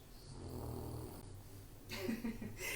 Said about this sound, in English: She is snoring away.